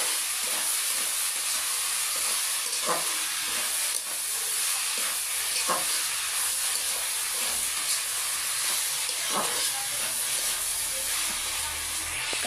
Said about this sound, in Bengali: পাতাকপি ভাজি দিয়ে আলু দিয়ে ভাজি করলাম।